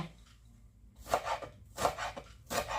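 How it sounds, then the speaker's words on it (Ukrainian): Fresh dill being chopped with a knife on a board, three distinct clusters of quick, crisp cuts after a quiet start, close and fairly soft, with no talking. "Останнє, що нарізаємо, це кріп."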